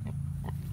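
A pig on a farm gives two short oinks over a steady low rumble, fairly close and clear, with no talk.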